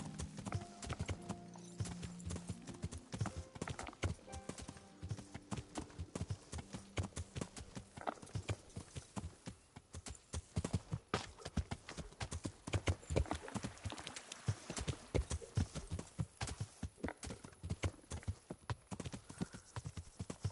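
Horse hooves clip-clop in Kingdom Come: Deliverance, a dense run of sharp, close hoofbeats at a walking-to-trotting pace over a farm path, with faint background tones and no talk.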